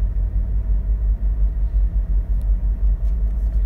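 Passing train heard as a loud, deep continuous rumble with a pulsing low-end throb, steady throughout with faint higher clanks toward the end and no voices.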